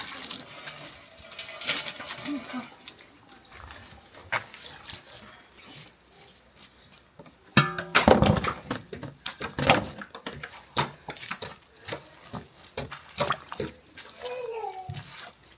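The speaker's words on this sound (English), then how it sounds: "So viewers, I want to pour it inside this cold water." Bitter leaves are tipped into a bowl of cold water, producing irregular splashes and sloshing that peak in a loud wet burst midway, with scattered knocks and some talking.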